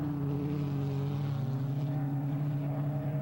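A Volvo-powered racing motorboat engine drones loudly and steadily during a race, a continuous close roar with no voices.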